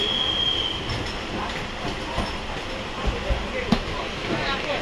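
Passenger train rolling along rails on a journey from Bangalore toward Kodaikanal, a continuous rumbling carriage noise with faint wheel squeal and a few low thumps near the end, heard from inside the train.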